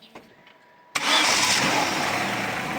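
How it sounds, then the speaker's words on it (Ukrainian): A Daewoo Nexia engine cranks and catches after a few faint clicks, then settles into a steady, loud running roar. "запускаємо двигун"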